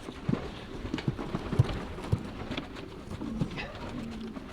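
Pigeons in a breeding loft give soft, low coos about every half second against a steady background hum, close but quiet.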